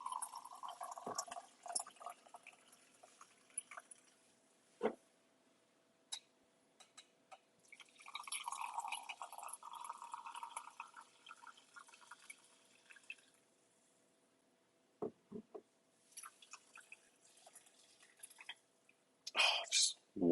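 Brewed coffee is poured into a cup in a few separate streams with quiet pauses between them, a soft, close liquid trickle with occasional clinks.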